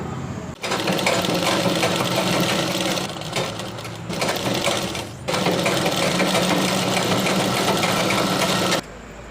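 A sewing machine runs steadily while stitching fabric for a puff sleeve, a dense mechanical whir that is close and loud, breaking off twice for a moment before resuming and stopping near the end.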